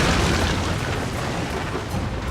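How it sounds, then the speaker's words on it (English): Coastal artillery mounted on shore in Shogun 2: Total War bombarding attacking ships, a dense continuous roar of booming cannon fire and blasts that stays loud and steady throughout, with no voices. "The defenders will actually have artillery mounted on the coast that they can use to bombard the attacking ships"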